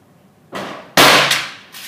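Shots from a Ruger Blackhawk revolver with a 7.5 inch barrel in 45 Colt at an outdoor range with a chronograph, two sharp reports in quick succession with lingering echo, the second louder and closer.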